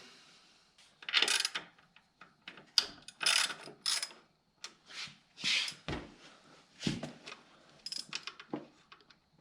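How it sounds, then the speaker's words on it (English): Metal parts clicking, scraping and clattering as a carburetor is worked loose and pulled off an abandoned lawn mower, in short separate bursts with pauses between, close and fairly quiet. "I'm going to pull the carburetor off now."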